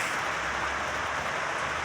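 Rain falls steadily on a Sunday, a dense even hiss of drops that holds at a constant moderate level, with no talking.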